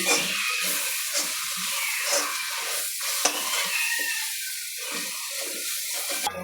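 Chicken curry with turmeric stirred in a hot pan, a continuous loud sizzle with scraping strokes of a spoon at a steady rhythm, close up and without talking.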